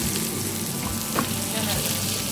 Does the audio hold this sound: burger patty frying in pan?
yes